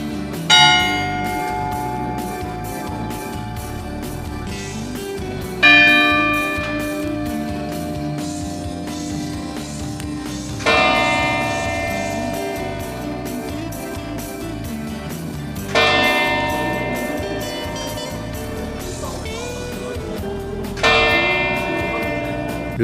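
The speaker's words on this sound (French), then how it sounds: "Les cloches rythment les quarts d'heure et les heures." Church bells in Moulins-sur-Allier ringing the hour, five resonant strokes at even intervals of about five seconds, each ringing out loud and then decaying into a long sustained hum.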